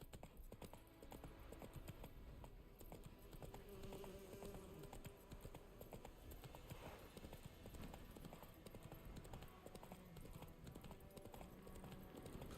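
A horse's hooves clip-clop in a steady quick trot in The Witcher 3, a regular close rhythm over faint buzzing ambience, with no talk.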